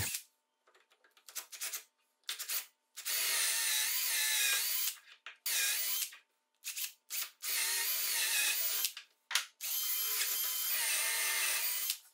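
Power drill driving a screw to join two workbench sections, several bursts of high-pitched whirring, some short and some several seconds long, separated by brief pauses, close and fairly loud with no talking.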